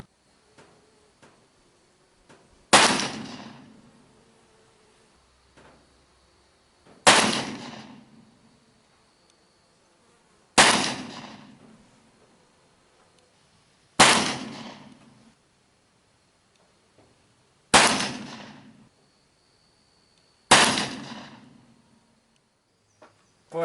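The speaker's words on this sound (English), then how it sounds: "We're going to switch to a 230 grain Lee Tumble Lube and shoot 6 shots and see how that ends up." Six loud gunshots from an Uberti Walker black-powder revolver fitted with a conversion cylinder, firing 230 grain Lee Tumble Lube bullets, spaced about three to four seconds apart with sharp cracks and short decaying tails in otherwise quiet surroundings.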